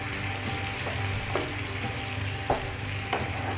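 Dry masala chicken sizzles and fries in a pan over a high gas flame, a dense continuous crackle with occasional sharper pops and stirring scrapes, close and steady.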